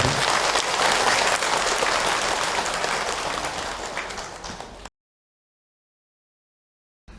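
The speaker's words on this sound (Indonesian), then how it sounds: "Tepuk tangan untuk kita semua yang ada." A congregation at a religious lecture gives sustained applause, a full, even roar of many clapping hands that slowly tapers for about five seconds before cutting to silence.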